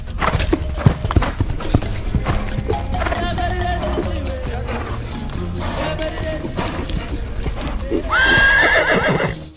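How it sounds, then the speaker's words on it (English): A racehorse, an Irish point-to-point champion, clip-clops with rhythmic hoofbeats and lets out a loud, drawn-out neigh near the end, all over busy music and sound effects. "the backing of a famous racehorse, an Irish point-to-point champion"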